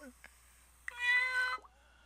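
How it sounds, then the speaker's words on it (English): A cat meows indoors, one long, clear, close meow that follows a few short faint sounds, with a quiet background hum. "There's a freaking cat in here."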